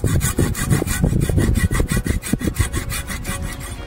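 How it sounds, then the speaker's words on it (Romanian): A hand saw cuts into a fig tree branch from the underside, rapid rhythmic rasping strokes, close and loud, about a dozen back-and-forth pulls. "Mai întâi facem o tăietură în partea de jos."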